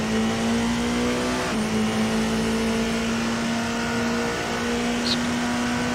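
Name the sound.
race car engine revving in a racing video game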